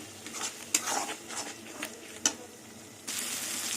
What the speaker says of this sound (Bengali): এবার সব মশলা দিয়ে কিছুক্ষণ আবার কষিয়ে নেবো মশলাটা